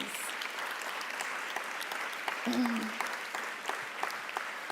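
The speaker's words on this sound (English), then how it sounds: "Y'all give them another round of applause, please." Audience applause at an evening event at a presidential library: soft, steady clapping from a crowd, fairly distant and faint, with a brief voice partway through.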